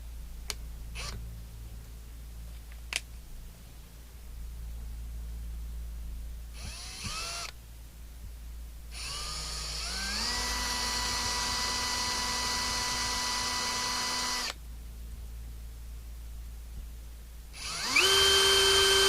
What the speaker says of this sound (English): I just need to drill through that hot glue which is popped through